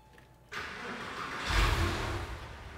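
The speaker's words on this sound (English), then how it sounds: "now that we've got the engine running" A Porsche 986/987/996/997 engine starting: quiet stillness, then the starter catches at about half a second and the engine settles into a steady idle, with a brief louder rev a second later, heard close up.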